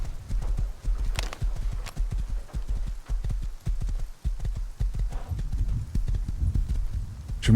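Steady clip-clop of horse hooves in the video game Rust at a trotting rhythm, close and fairly loud, with no talking over it.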